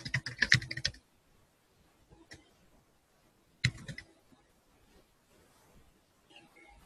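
Quick bursts of clicking keystrokes on a computer keyboard, a dense flurry at the start and another short burst midway, with quiet pauses and a few isolated taps between.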